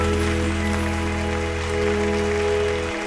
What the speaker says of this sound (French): On les applaudit, frères et sœurs bien-aimés.